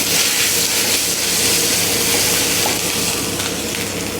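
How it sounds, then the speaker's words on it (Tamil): Mustard seeds and urad dal frying in hot oil for a snake gourd chutney tempering, a close, steady crackling sizzle with dense popping that holds throughout, no voices. "கடுகு பொரிஞ்சிருச்சு"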